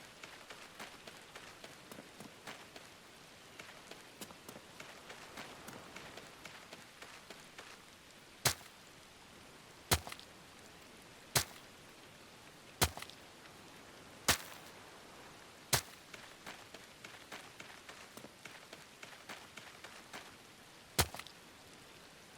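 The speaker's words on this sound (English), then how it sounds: "let me know what you think about the volume of the rain. Because I find it quite relaxing." Rain falls steadily in the Viking Frontiers video game, a soft continuous patter with a string of sharp, evenly spaced chopping knocks cutting through it; no one speaks.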